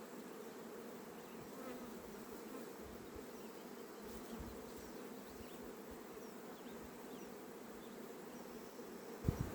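Many bees buzz in a dense, continuous drone, close and steady, with a faint knock near the end, during work at an open hive.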